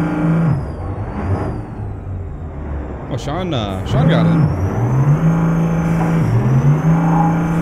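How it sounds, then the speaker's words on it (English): A truck engine in American Truck Simulator hums and drones with shifting pitch, a brief air-brake hiss midway, while someone talks over it. "Engine sound is annoying."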